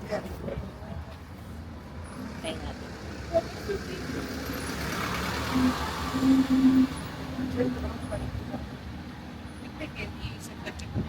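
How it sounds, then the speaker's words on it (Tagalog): Cars pass along a street near the ruins in Ollantaytambo, Peru. A soft broadband swell of traffic rises and falls, and one louder vehicle passes midway with a faint engine tone, under a constant outdoor background. "Marami lang dumadaan na kotse."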